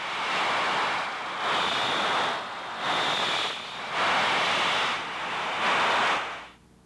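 An ultrasound detector with a rubber probe scans a heat exchanger tube, giving a loud hissing rush of noise that swells and fades in about five broad pulses before cutting off.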